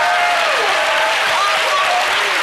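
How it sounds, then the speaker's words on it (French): Dense, loud applause from a studio audience on a French television show, a continuous wash of many hands clapping with no voices above it. "une offrande d'applaudissements pour notre star, Alissa Arjona"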